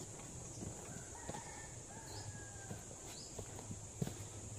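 Chickens at a water drinker on a small farm, with soft scattered clucks and a faint distant rooster crow over a steady hum of background noise.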